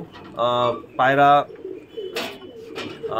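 Pigeons coo in a loft, giving two strong, throaty coos followed by softer calls and a few sharper bursts, close and clear.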